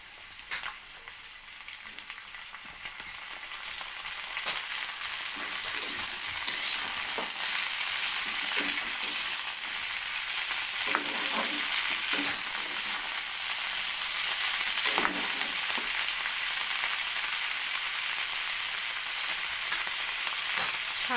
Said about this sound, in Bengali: এবারে আমি কেটে রাখা শাকগুলো দিয়ে দেব